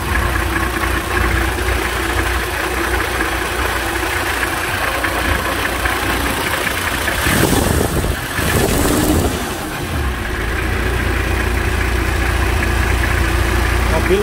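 A 2000 Toyota Land Cruiser HZJ80 GX barndoor with a manual gearbox idles steadily as a continuous, even engine drone. A brief louder swell comes midway, and there is no talk over the sound.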